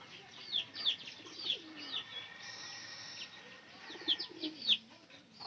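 Pigeons in a loft give repeated soft coos and chirpy calls, scattered through the scene at moderate distance over a quiet background, with no talk.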